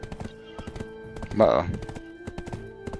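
Horse hooves clip-clopping in the video game Black Desert Online, a steady rhythmic series of hoofbeats with a short whinny-like sound in the middle, while a person speaks briefly.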